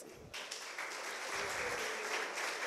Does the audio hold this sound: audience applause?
yes